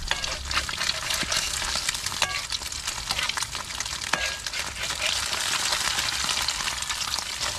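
Sponge gourd with misua fries in cooking oil, close, crackling sizzle mixed with scraping stirs of a utensil against the pan, fairly quiet and continuous with no talk.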